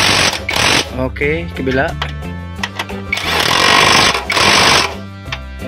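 A power impact tool rattles in loud repeated bursts while tightening the shock mount bolts on a Honda CR-V with a worn rubber support, with someone speaking between and over the bursts.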